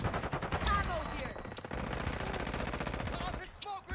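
Rapid automatic gunfire from a weapon in Call of Duty MWII, fast steady bursts running almost throughout and loud up close, with a voice talking over parts of it.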